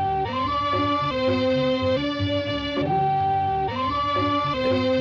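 Old film-score music sample from Satyajit Ray's Nayak, unequalized, with sustained melodic tones over a soft background drum pattern ticking along, steady and fairly loud, no voices.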